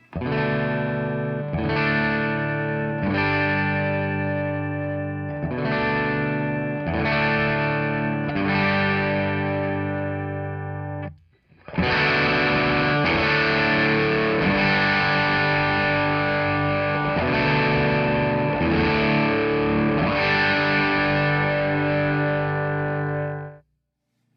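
A distorted electric guitar through a Benson preamp pedal stacked on a Tim pedal plays sustained chords with a bright, driven tone, a brief pause midway, then another long ringing passage.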